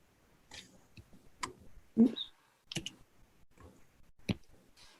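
Computer mouse clicks advancing presentation slides during a utility district board meeting, a series of sharp, quiet, irregularly spaced clicks close to the microphone with faint rustling between them.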